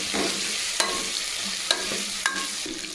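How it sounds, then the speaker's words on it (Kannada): Potatoes frying and being stirred in hot oil in a pan, a continuous close sizzle broken by three sharp spoon clinks against the pan, with no talk. "ಇವಾಗ ಇದಕ್ಕೆ ಆಲೂಗಡ್ಡೆ ಹಾಕ್ಕೊತಾ ಇದ್ದೀನಿ."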